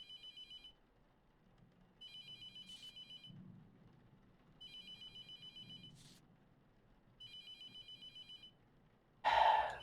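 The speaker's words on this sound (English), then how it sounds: "I guess I'll stop ignoring the phone." A telephone in the horror game Mortuary Assistant rings in four evenly spaced electronic trills, each followed by a short pause, with soft low movement sounds between rings and a sudden louder noise at the end.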